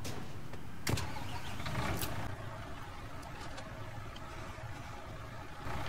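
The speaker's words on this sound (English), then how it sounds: "turn the cement truck on, or concrete truck, whatever it's called" A concrete cement truck engine cranks and starts in the Construction Simulator 22 game, with a sharp click and then a steady, loud engine rumble running alone for several seconds.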